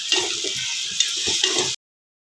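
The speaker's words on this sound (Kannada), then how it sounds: "4 ಟೊಮೆಟೊ ಒಂದು 5 ನಿಮಿಷ ಈ ಟೊಮೆಟೊ ಇದರಲ್ಲಿ ಬಾಡಬೇಕು." Four tomatoes frying in a pan while veg pulao is being made, giving a steady bright sizzle with a few soft stirring knocks before it cuts off abruptly.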